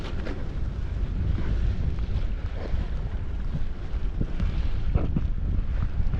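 Steady roaring wind by the sea at Lamon Bay buffets the microphone, with rumbling low gusts rising and falling throughout and no voices.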